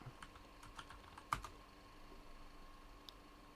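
Keys tapped on a computer keyboard to enter commands in the Signal Simulator game, a few quiet scattered clicks with one sharper keystroke near the middle, faint and close, with no talk.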